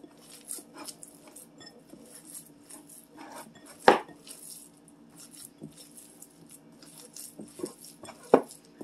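Meatball mixture for spaghetti and meatballs gets mixed in a bowl: soft, scattered clinks and knocks against the bowl, with two sharper clanks standing out in a quiet kitchen.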